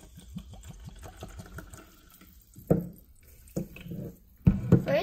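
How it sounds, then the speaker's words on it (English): Sparkling spring water is poured into a glass, giving a close, bubbly trickle with gurgling splashes and a few sharper pours and clinks toward the end, without any talk. "Let's pour some water in."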